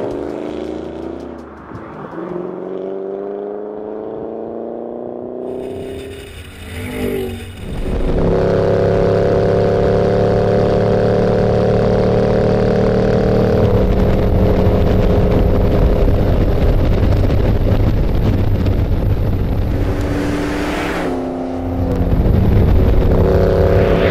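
A 2013 Ford Shelby GT500 runs flat out on a high-banked 5-mile oval, its supercharged engine roaring loud and close as it climbs through the gears. A sustained high-speed drone builds, with wind rush and brief shifts in pitch.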